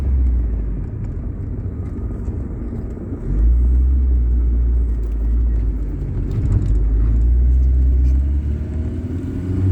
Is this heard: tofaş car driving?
yes